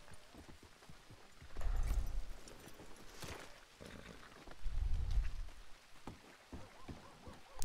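Horse hooves clip-clop in a video game, two louder bursts of thudding steps with faint clatter between them, moderately close against a steady background.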